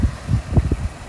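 A 1999 BMW Z3M in Estoril Blue with its straight-six engine idling nearby, giving a low, uneven burble of soft pulses that rise and fall over a second.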